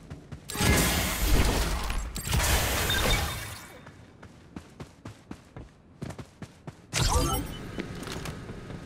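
Gunfire in the Farlight 84 video game, with bursts of rapid shots, sharp cracks, shattering impacts and scattered single clicks and mechanical sounds between quieter gaps.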